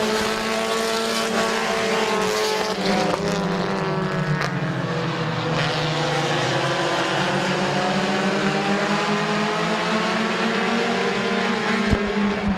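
Compact race cars at Midvale Speedway roar around the track in a loud, continuous drone of several engines whose pitch slowly rises and falls as the pack passes. No one speaks.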